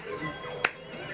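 A single sharp clap on a bongo controller while playing Donkey Kong Jungle Beat, a brief crisp snap midway through over quiet game music and tones.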